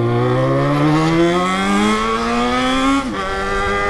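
A motorcycle engine revs loud and close, its droning pitch climbing steadily for about three seconds before dropping off sharply near the end.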